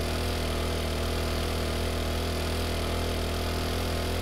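Motorbike engine in the video game 7 Days To Die, a steady, even drone that runs unbroken and fairly loud throughout, with no voices over it.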